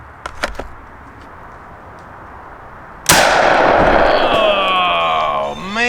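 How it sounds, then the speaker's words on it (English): A single loud 12-gauge buckshot blast, Federal Force X2, fired at a clay target outdoors, the sharp boom hitting after a few quiet seconds and trailing off into a long ringing decay. "we're gonna go ahead and hit that clay with one round of this"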